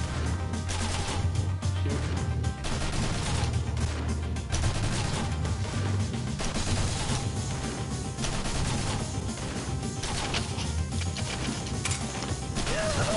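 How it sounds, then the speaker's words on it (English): Gunfire in the side-scrolling shooter Mercenary Kings, played on PS4: a dense, continuous clatter of rapid shots and mechanical clanks running loud throughout, with a low rumble beneath. "Gunshot."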